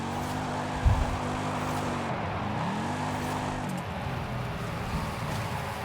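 A Cyclone car from Forza Horizon 5 holds a steady engine drone with a rising and falling pitch as it revs and shifts, close and moderately loud, with a brief knock near the start.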